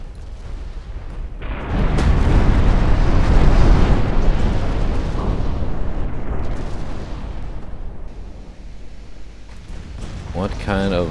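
Naval guns firing in Ultimate Admiral Dreadnoughts, with secondary batteries on one ship and main guns on another: a sustained rumbling barrage of heavy booms that rolls on for several seconds, with a voice talking near the end.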